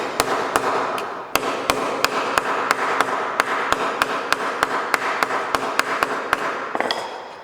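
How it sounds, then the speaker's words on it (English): A hammer strikes joined pieces of sheet metal, about 5 mm, in a workshop, landing in a steady series of sharp, ringing metallic blows roughly every third of a second, loud and close with no talk. "After that, you strike with a hammer."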